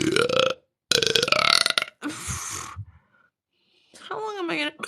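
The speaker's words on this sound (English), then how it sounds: "I have the hiccups." Someone with the hiccups makes sharp, jerky throat sounds and gulps in short bursts, close and loud, with a few breaths and some voice mixed between them.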